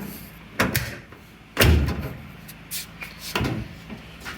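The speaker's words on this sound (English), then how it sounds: "So when I shut the door," The door of a 1950 Dodge hot rod body under restoration is shut, giving several hollow metallic thumps and knocks, one heavy slam in the middle, close and loud with brief rattles between.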